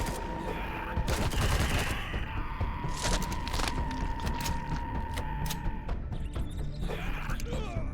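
Sustained gunfire from a shooter fighting enemies in the space survival game Empyrion (Reforged Eden 2): loud, dense bursts of rapid shots with thumping impacts, nearly continuous throughout, with a short lull before a final cluster.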